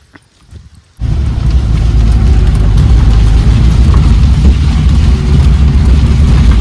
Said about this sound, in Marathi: म्हणजे आता पण बघा असा पाऊस आहे ना, कालपासून लागतोच आहे आम्हाला.